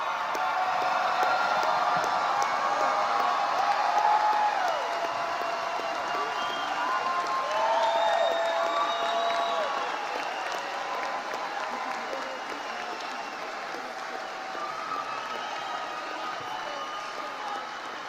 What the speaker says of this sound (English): will everyone please stand as you're able and share in a round of applause for each other.